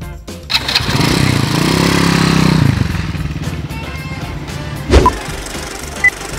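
Nearby, a motorcycle in Laos is kick-started, catches with a buzzy rising rev, then settles to a rattling idle, with a couple of sharp knocks afterward.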